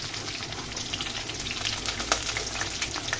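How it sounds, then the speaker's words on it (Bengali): Ginger garlic paste added to fried chopped onions for ghugni, a dense, continuous loud sizzle with small crackling pops throughout. "পেঁয়াজ কুচিটা ভাজা হয়ে গিয়েছে, দিয়ে দিচ্ছি আমি আদা রসুনের পেস্ট।"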